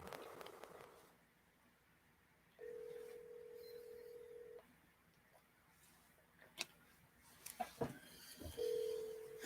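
Telephone dialing tones play as a call is placed through an office phone system. Steady tones sound in two longer blocks with short ticks and clicks between them, with faint background noise and no talk.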